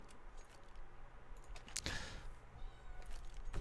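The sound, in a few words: cat meowing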